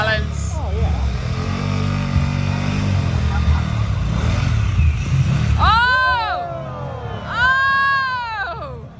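At the Adventure Bike Festival 2021, a motorcycle engine revs hard and steadily until it overheats; excited voices shout and cry out over the engine noise.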